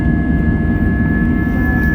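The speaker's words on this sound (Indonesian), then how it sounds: "lama-kelamaan kecepatan pesawat ini semakin cepat" A passenger airplane accelerating on the runway at Makassar airport, heard from inside the cabin as a steady, loud broadband engine roar with a faint constant whine, continuous throughout with no talking.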